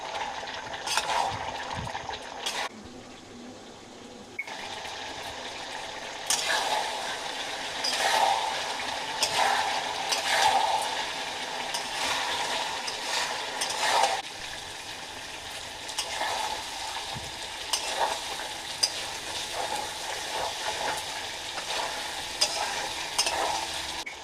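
Duck meat fries in its own rendered fat in a pan, a steady sizzle broken by repeated spatula stirring and metal clinks against the pot, heard up close without speech.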